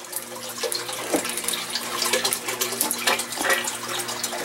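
Water from an aquaponic garden pump pours steadily into a grow bed, a continuous splashing rush heard up close with no talk over it.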